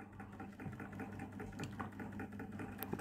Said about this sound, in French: c'est un moteur qui tourne à 180 tours minute